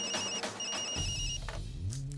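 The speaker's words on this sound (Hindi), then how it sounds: "फोन बज रहा है, सुनाई नहीं देता?" A telephone rings in short repeating trills, bright and close, then gives way to a low rumbling murmur.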